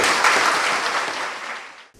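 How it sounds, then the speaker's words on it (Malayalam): At a school event for a local cleanliness campaign, a crowd gives schoolchildren a loud, dense round of applause that tapers off and stops abruptly at the end. "വലിയ ഒന്ന് കൈയടിക്കണം ഈ പിള്ളേർക്ക്."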